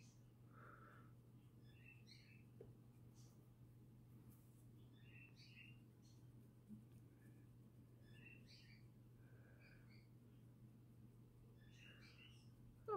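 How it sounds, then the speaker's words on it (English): Pet birds chirp faintly in the background of a quiet room, scattered short tweets and calls repeating every second or two over a low steady hum, with no talking. "I don't know if you can hear my birds in the background."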